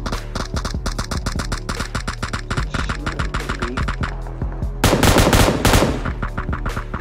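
Automatic gunfire from a PUBG battle royale match, version 0.14.0, near a school building: a steady, rapid rattle of shots lasting several seconds, then a louder, denser burst near the end.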